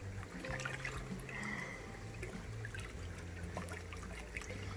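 Water pours and trickles steadily into an inflatable paddling pool being filled with warm water, a continuous close splashing stream from start to finish with no talk.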